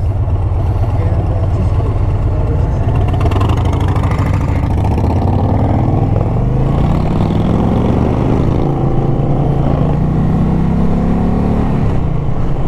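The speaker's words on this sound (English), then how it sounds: "The bike starts with the push of that button." A 2020 Indian Challenger motorcycle engine runs loud and close throughout, a deep steady rumble whose pitch climbs as it revs up around the middle and then settles, with no talking.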